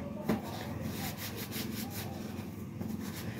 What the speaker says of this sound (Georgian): ამ კუთხეების გასუფთავებას ხერხით ვაკეთებ ხოლმე